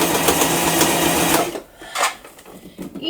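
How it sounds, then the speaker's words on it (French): Close, loud sewing machine stitching a long skirt seam, running steadily for about a second and a half, then stopping and starting in short bursts. "je couds le long de ma ligne qui n'est pas droite du tout"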